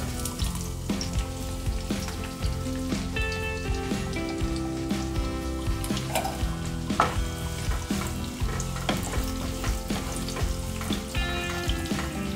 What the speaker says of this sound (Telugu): ఆయిల్ హీట్ అయింది కదా, కట్ చేసి పెట్టుకున్న ఆనియన్స్ వేసేద్దాం.